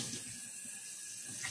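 Cold water runs from a tap into a sink, a faint, steady splashing hiss that continues unbroken for the whole moment.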